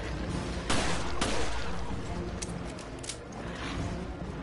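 Gunfire in the survival horror game Resident Evil Revelations: a few sharp shots and bursts in the first seconds, then scattered impacts and clicks over a dense rumbling background.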